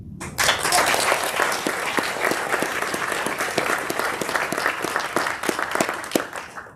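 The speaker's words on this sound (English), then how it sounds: "please give one final applause for everyone recognized today for their contributions to Army Futures Command" Audience applause at an Army Futures Command award ceremony, a dense, steady round of clapping that starts abruptly and continues loud and even throughout, with no talk over it.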